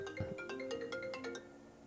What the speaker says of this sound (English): someone also told me that my phone rings a lot